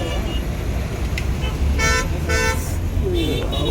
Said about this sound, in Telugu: Full traffic. దాని నుంచి మనం టిఫిన్ తినేస్తాం.